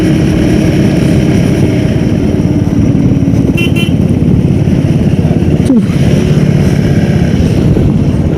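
A new KTM motorcycle being ridden, a loud continuous engine drone with wind rush, and a brief horn toot partway through.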